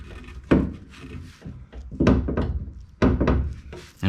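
A loose glasspack exhaust pipe on an '85 Camaro Z28 knocks against the underbody, giving four or five hollow, close thunks at uneven intervals with no talk.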